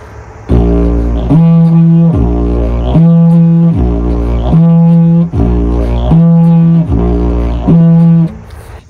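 A didgeridoo plays a loud, steady low drone broken by repeated short toots, with about seven pulsing phrases in an even rhythm and no talk over it.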